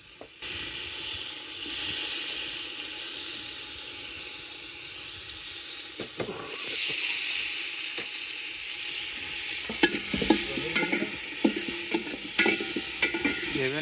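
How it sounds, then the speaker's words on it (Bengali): Cauliflower florets fry in hot oil while cooking aboard a boat in the Bay of Bengal, giving a steady, close sizzle with stirring and scraping that grows busier toward the end. "তেলের উপরে প্রথমে ফুলকপিগুলো দিয়ে দিলাম"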